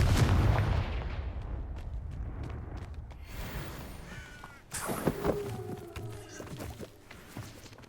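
The Confringo blasting curse in the Hogwarts Legacy video game sets off a deep boom at the start, then a second sharp explosive burst midway that trails into crackling, ringing debris.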